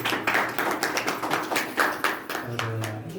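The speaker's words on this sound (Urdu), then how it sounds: "تالیاں ہیں ہماری بہن کے لیے" Applause greets a welcomed sister at a church gathering: a crowd claps steadily and fairly close for a few seconds, with a voice coming in near the end.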